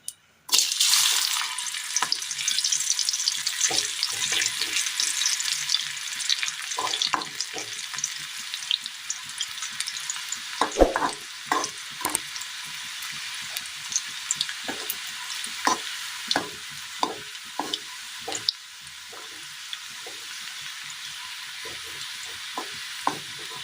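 Pieces of jackfruit fry in a small amount of hot oil for a Kerala dish, a loud bright sizzle bursting at first, then a steady crackle punctuated by repeated spatula scrapes and clicks against the pan.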